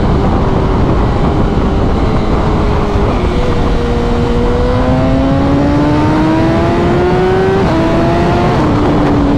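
A BMW S1000RR sport motorcycle cruises in sixth gear with a loud, steady engine drone whose pitch climbs slowly, along with rushing wind noise, and no talking.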